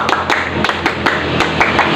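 Rhythmic scout clap (tepuk pramuka) by a group of pupils in an elementary school scouting lesson, sharp claps landing in a steady patterned beat, close and loud for two seconds with no talking.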